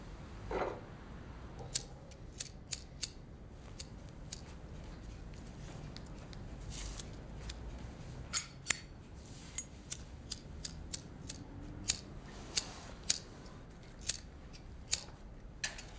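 A cigarette lighter being handled in a quiet room: scattered sharp, faint clicks at irregular intervals, growing somewhat more frequent toward the end.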